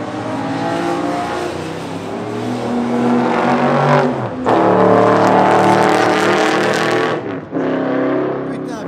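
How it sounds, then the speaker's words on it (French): A race car passes close by at Le Mans, its engine roaring loudly and rising and falling in pitch over several seconds, with a sudden cutoff and a short dip near the end. "ça c'est la voiture de course"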